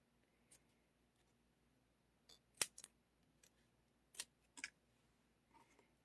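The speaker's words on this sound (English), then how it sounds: "I think I'm just going to snip off these two." Scissors snip paper in a quiet room during a paper pumpkin craft: a few sharp isolated cuts, with a couple of closely spaced double snips, close and fairly soft.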